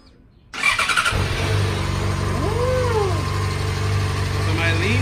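Honda Hornet motorcycle with its original exhaust starts up and settles into a steady, loud, close idle that runs continuously to the end.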